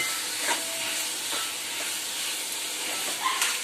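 Tomato frying in a pan for okra sabzi, a soft steady sizzle with faint stirring clicks and scrapes, close and quiet, no talking.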